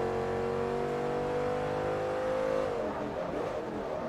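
Porsche race car engine in Forza Motorsport 3, a steady loud high-revving drone that holds its pitch, then drops sharply as the revs fall off near the end, with no talking.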